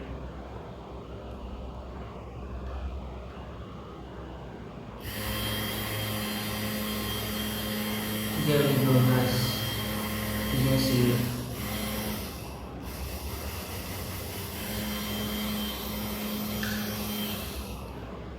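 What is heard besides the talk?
12V DC motor running on a 12V adapter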